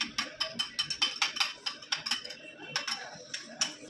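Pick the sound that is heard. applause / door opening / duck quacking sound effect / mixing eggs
mixing eggs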